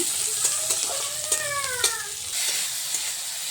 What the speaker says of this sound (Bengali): এবারে কড়াইতে পেঁয়াজ দিয়ে দিলাম